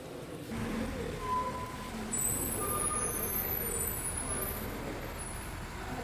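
A KSRTC bus bound for Dharmasthala pulls into the Sirsi bus stand, its steady engine rumble and road noise filling a busy depot with a faint high hiss of brakes and distant chatter underneath.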